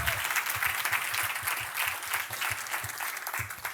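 A church congregation breaks into applause during a sermon, many hands clapping in a lively, fairly rhythmic patter that stays close and steady throughout, with faint voices mixed underneath.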